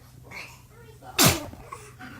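A baby lets out one sharp, loud sneeze partway through, standing out above soft background sounds and faint voices in a home setting.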